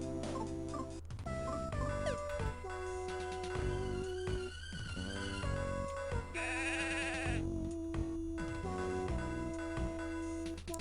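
Sheep bleat in the video game Mother 3, with repeated quavering cries layered over a steady, busy game soundtrack.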